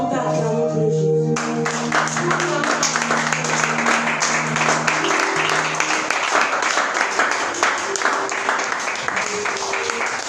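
A church congregation bursts into applause after a held tone fades, a dense, steady clatter of many hands clapping that fills the room, with voices mixed in beneath.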